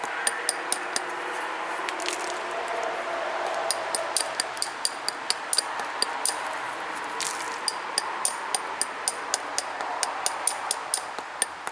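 Flint struck with an indirect percussion tool to knock off flakes, giving sharp, bright ticks and clicks at irregular intervals over a steady faint background hiss, fairly quiet and close.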